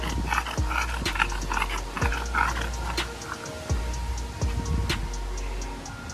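Bully breed dogs play outdoors, their scuffling, yips and snorts breaking up in irregular bursts over a steady background hum, with no talk over them.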